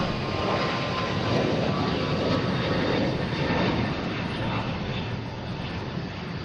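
A Japan Airlines jet arriving from Tokyo at Boston Logan Airport gives a loud, sustained engine roar that stays steady and close throughout, easing slightly toward the end.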